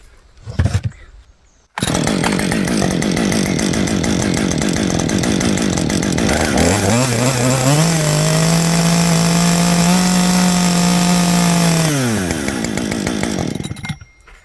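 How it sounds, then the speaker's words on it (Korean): A chainsaw engine, already started once, fires after a short pull and roars loud and close, its revving dipping into a steadier tone for several seconds before winding down at the end. "아까 시동 걸었기 때문에 바로 땡기면 될 겁니다 아마"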